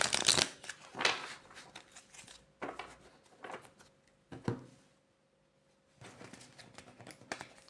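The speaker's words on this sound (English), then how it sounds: "So we're just going to give this a little shuffle, and then I'll pull one of the cards out." A tarot deck is shuffled by hand in several short, close riffling bursts separated by brief pauses.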